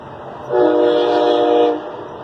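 A loud, steady Amtrak train horn sounds for over a second against the rumble of the passing train, then fades back to rolling noise.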